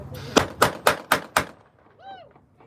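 Two guns firing together during a living history drill aboard USS Alabama: five sharp, loud reports in quick even succession, then a brief faint tonal sound afterward.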